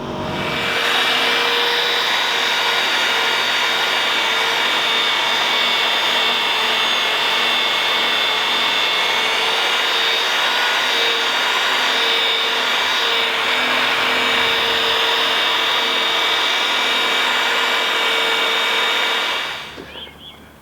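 A machine polisher with a large mop and medium compound buffs a car headlight lens, a loud steady whirring drone that runs unbroken for about twenty seconds, then cuts off abruptly at the end.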